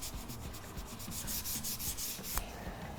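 Steady, dry rubbing by hand over a wood bar counter being worked into a faux poured-concrete finish, a continuous close scuffing texture with one brief knock near the end.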